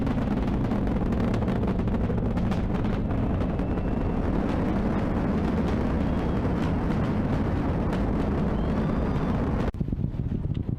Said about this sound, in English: Mission Control Houston seeing good performance on the 4 main engines